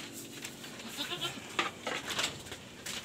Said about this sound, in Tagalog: Pakain tayo sa ating mga alagang kambing.